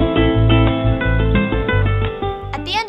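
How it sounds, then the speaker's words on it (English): A school bell marking the end of a period, recess or lunch plays as a loud electronic musical tune of rhythmic, stepping notes with punchy low accents, ending in a brief swooping tone. "At the end of the period, recess and lunch, the bell sounds like this."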